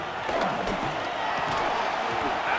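Stadium crowd noise in Madden NFL, a steady loud roar with scattered cheers and whoops during a 3rd-down play, running under commentator voices.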